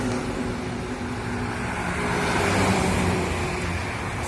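Sahabat Brazil bus driving past on an Indonesian toll road, a steady engine and tyre roar that swells as it draws near and stays loud, with no voices.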